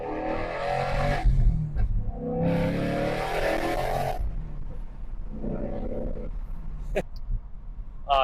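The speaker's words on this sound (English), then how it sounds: "So we can get a little bit of an acceleration in here so you guys can hear this exhaust. It is in track mode, and this is with the H-pipe." A 2024 Ford Mustang GT S650 with an H-pipe exhaust in track mode roars through bursts of acceleration, loud and close, rising and falling between gear changes.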